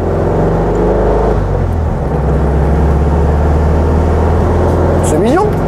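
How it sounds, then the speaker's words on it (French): A small 44-horsepower car accelerates, its engine droning loud and steady as the pitch shifts from inside the cabin, with a voice speaking over the engine noise. "Est-ce que c'est vraiment nécessaire de faire une accélération?"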